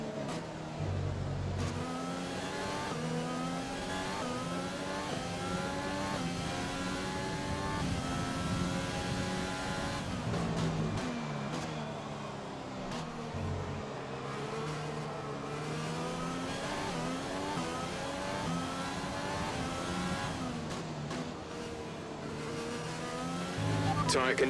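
Formula 1 car engine in the video game F1 2020, racing at the Dutch Grand Prix, revs steadily high with repeated upshifts and downshifts, rising and falling pitch, continuous and close throughout.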